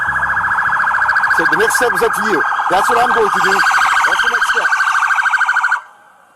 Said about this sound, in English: You can hear the lights and siren in the background.